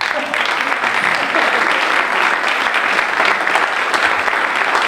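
Audience applause at an award ceremony for a music prize, a steady, dense wash of clapping from a full room that holds loud and even for several seconds without letting up.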